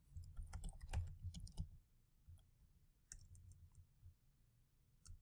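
Rapid clicking of computer keys, a dense burst of typing followed by a few scattered, lighter keystrokes; close and fairly quiet, no voices.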